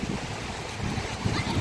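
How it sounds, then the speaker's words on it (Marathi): Sea waves surge and wind gusts along Worli Sea Face in Mumbai during heavy monsoon rain, a steady broadband roar with low rumbling swells that build slightly toward the end, no voices. "सागर भरलाय गो. वारा काय सुटलाय गो."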